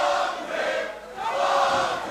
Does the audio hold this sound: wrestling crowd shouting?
yes